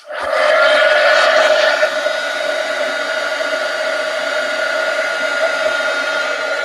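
A heat tool dries Distress Oxide ink on a craft project: a loud, steady blowing hiss with a whining tone starts abruptly and runs continuously throughout.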